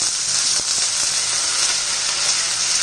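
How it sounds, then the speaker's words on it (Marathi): Field beans (pavta) sautéing with onion in hot oil give a steady, close sizzle that never lets up, with a few faint stirring scrapes and no voices. "तो या कांद्याबरोबर असा तेलात परतून घ्यायचा"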